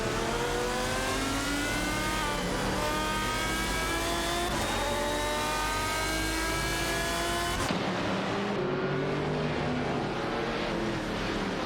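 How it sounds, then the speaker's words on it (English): Race cars in a racing video game, including a Koenigsegg CCGT and a Saleen S7, roar at high revs with rising and falling engine pitch as they shift gears, loud and continuous with no talking. "Duffdad and Amy in the Koenigsegg CCGT are in a tight battle with Kamikaze 38 and Xshuber in the Saline S7 are for 22nd place."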